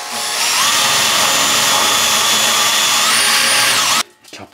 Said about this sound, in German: da bohre ich mir jetzt ein Löchlein rein